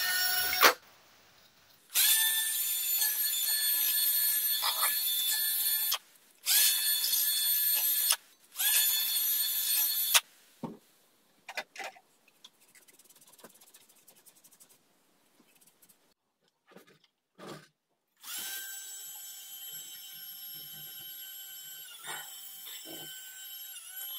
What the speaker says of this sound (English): I'm using a wire brush